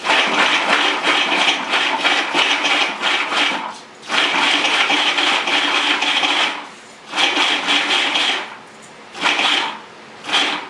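Food processor pulsing osso buco ingredients, loud whirring bursts of blade noise in several pulses of varying length separated by short pauses, up close.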